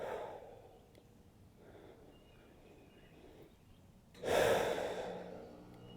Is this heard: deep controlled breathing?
yes